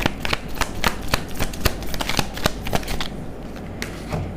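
Oracle cards are shuffled for a tarot-style reading, giving a quick run of crisp, close riffling slaps and flutters that ease off toward the end.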